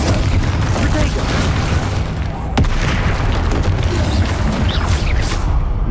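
Spell blasts in the video game Hogwarts Legacy during a fight with a troll, a loud continuous rumbling roar of booming impacts with one sharp crack midway, with shouted incantations over it.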